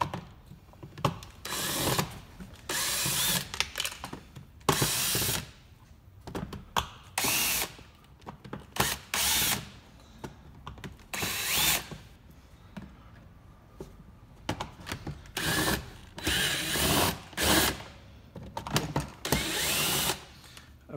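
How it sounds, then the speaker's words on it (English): A power driver backs screws out from underneath the dash of a 2024 Tundra in repeated short bursts, each a few seconds long with quiet gaps between, fairly close and moderately loud. "to get inside of the dash, you would remove the screws on the bottom"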